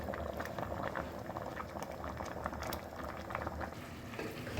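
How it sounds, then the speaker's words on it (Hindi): Water at a steady rolling boil in an open pot for rice, a dense continuous bubbling and churning heard up close without pause, no voices. "चावलों के हिसाब से मैं इसमें पानी शामिल कर दूँगी और बॉयल आने पर मैं इसमें चावल शामिल कर दूँगी"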